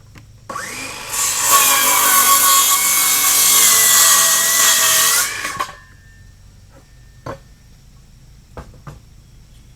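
Used lumber being cut by saw for porch joists on a 12x16 off-grid cabin, a loud steady rasping run of about five seconds close by, followed by a few faint knocks and clatter.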